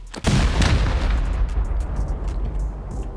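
Heavy C4 explosions from a base raid in a survival game, one deep booming blast and its rolling rumble filling the short stretch, loud and near with faint crackling tails.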